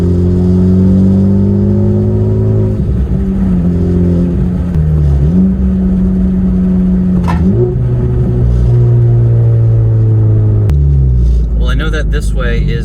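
A Honda Civic Type R with its exhaust system broken off accelerates while driving, a loud raw engine roar with rising and falling pitch through several revs and shifts, continuous and close.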